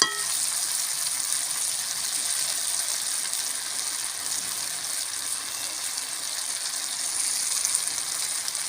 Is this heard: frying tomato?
yes